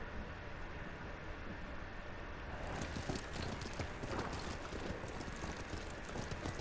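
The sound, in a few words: horse hooves galloping in video game Ghost of Tsushima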